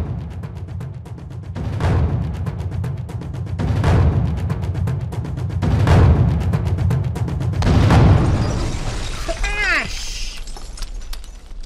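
Loud, rapid percussive hits in irregular bursts, like drums being bashed, ending in a short crash and clatter.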